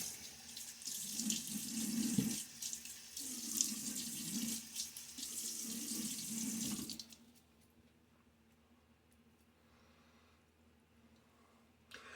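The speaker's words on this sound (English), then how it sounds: "Now I get my face wet and we'll load up the brush." A bathroom sink tap runs while the face is wetted before a wet shave, a close, splashing water flow lasting about seven seconds. The tap then stops and only quiet room noise remains.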